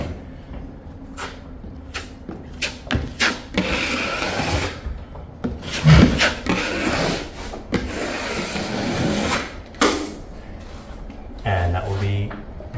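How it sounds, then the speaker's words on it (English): A light sanding block is rubbed across a drywall surface, giving steady, gritty scraping strokes of varying length, interrupted by sharp taps and knocks at close range. "Then with a light sanding block,"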